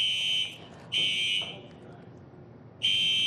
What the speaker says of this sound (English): we just have a fire alarm right now, so unfortunately we are going to have to evacuate the building